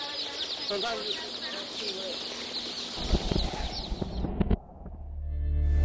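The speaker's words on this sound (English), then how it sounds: "These workers roughly sort the chicks, searching for sick, injured, and deformed birds." Chicks in a factory farm hatchery peeping in a dense, high chorus while being handled and sorted, followed by clattering thumps of machinery or crates and a low rising hum.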